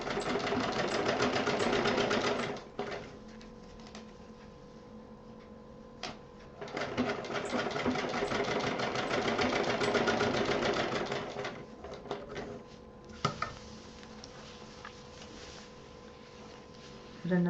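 A sewing machine stitches a zipper onto fabric for a bangle case in several loud whirring bursts, each separated by short pauses and small clicks.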